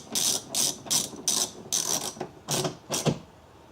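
A ratchet with a 10mm socket tightens a bolt on a Volkswagen Jetta door, a series of about seven quick rasping clicking strokes in a steady rhythm, close and clear with no talking.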